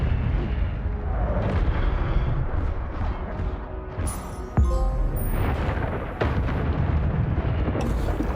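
A fire spell is cast in Hogwarts Legacy, landing as a sharp boom with a burst around the middle, then crackling fiery rumble over steady game music and ambience.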